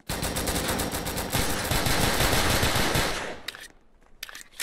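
Rapid automatic gunfire in a video game as a player shoots an opponent, a dense loud burst of rattling shots for about three seconds, then a few sharp isolated shots trailing off.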